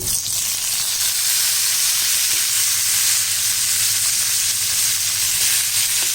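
Cut eggplant sizzles and fries steadily with masala spices in a pan, a continuous close, even hiss with faint stirring scrapes throughout and no voices.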